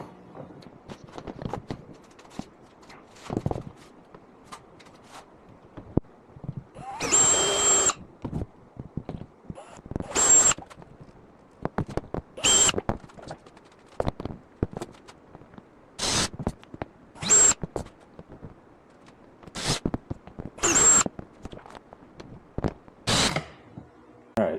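A power drill bores holes for a fridge slide mount in a truck kitchen setup, firing in short, loud bursts of whirring separated by quieter pauses with scraping and handling noise, close by.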